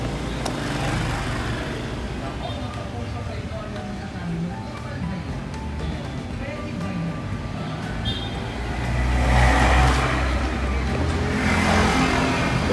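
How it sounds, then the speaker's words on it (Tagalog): A motor tricycle passes along a busy residential road, its engine rising to a louder, closer swell near the end amid steady traffic rumble. "Ingay naman tricycle."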